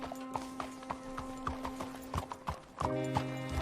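Horse hooves clip-clop at a steady walking pace in Red Dead Redemption 2, close and clear, with a soft whinny and quiet in-game ambience.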